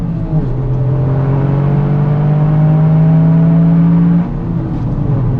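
Toyota GR Yaris accelerating on a race track, its engine tone climbing steadily through the revs, loud and close from inside the car, then dropping off sharply near the end.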